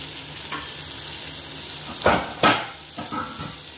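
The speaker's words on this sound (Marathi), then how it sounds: "मस्त कांदा टमाटा आपल्याला एक करून घ्यायचा" Onion, tomato and turmeric frying in a pan hold a steady close sizzle, then a few sharp spatula scrapes and stirring strokes near the end, with no one talking.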